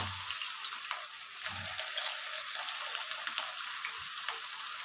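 Onion pakoras fry in hot oil, a steady bright sizzle with crackling pops, close and continuous, and a few soft low knocks from the pan along the way.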